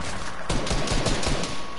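A small gun fires in a video game, a quick rapid burst of sharp shots close up, about half a dozen cracks in a row, with no talking.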